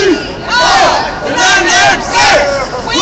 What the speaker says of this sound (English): A small but enthusiastic crowd here today.